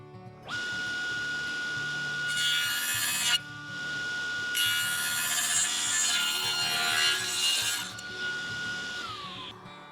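A table saw with a mitre extension trims the edge of a wooden board: a spinning blade hum holds steady, while two loud, close rasping cut passes with a short break between them ride over it before the blade spins down.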